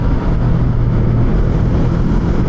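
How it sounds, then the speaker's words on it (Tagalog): A large truck hauling two shipping containers rumbles past on a tree-lined street, a steady, loud low engine drone heard from a moving motorbike, with continuous road and wind noise and no talk. "Grabe, laki ng truck."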